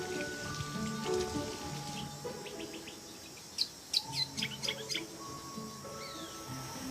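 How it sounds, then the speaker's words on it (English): Birds chirp in a short run of quick, bright calls over a steady wild background hum of insects and patter, moderately distant and with no one talking. "hearing the insect life and the bird life, animal life"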